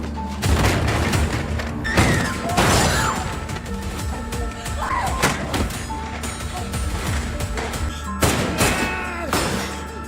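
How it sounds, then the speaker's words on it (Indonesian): Gunshots in an action film ring out as a series of sharp, loud bangs and crashes scattered irregularly over a busy, dense soundtrack with a few louder bursts toward the end. "Jiongmin yang terpojok mulai melepaskan tembakan yang membuat Jian berlari menghindar."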